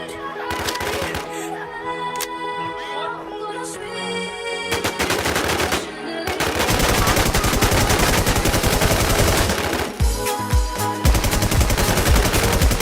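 Rapid automatic gunfire in a PvP match of the online game Infestation, sharp cracks stacked into long bursts with brief gaps, staying loud and nearly continuous through the second half.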